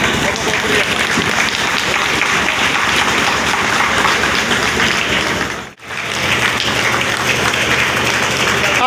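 A large crowd applauds a welcomed guest with thunderous, rain-like clapping that roars continuously, briefly dipping to near silence partway through before surging back just as loud.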